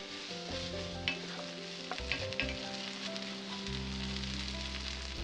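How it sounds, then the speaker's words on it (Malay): Ground spice paste fries with curry leaves in hot oil for karipap filling, giving a loud, continuous sizzle and crackle with occasional stirring clatters and a steady low hum underneath. "Tumiskan bahan kisar bersama dengan daun kari sehingga layu dan naik bau."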